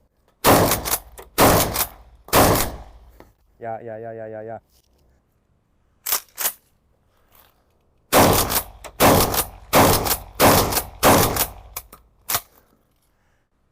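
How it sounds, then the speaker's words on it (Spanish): Sharp blasts from a Hatsan Escort pump-action shotgun ring out in bursts, several in quick succession, with a brief voice and a pause between volleys. "Disparemos algunos tiros más."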